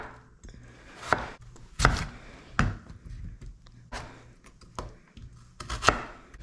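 Potatoes being cut into even chunks with a knife on a cutting board, about seven separate sharp thunks at uneven intervals with quiet gaps between them, close and clear, with no talking.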